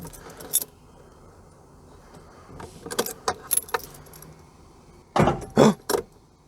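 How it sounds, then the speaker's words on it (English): Keys jingle and rattle as the ignition key of a classic Mini Clubman is handled and turned, with a few soft clicks and then louder clattering metallic jangles near the end, close and clear. "First flick of the key is always a strange experience."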